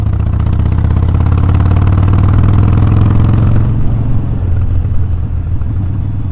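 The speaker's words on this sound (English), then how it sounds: "Nice thing about these Harleys, they got that low end torque." A Harley-Davidson motorcycle engine runs steadily while being ridden, a loud, close low rumble that holds constant and eases slightly toward the end.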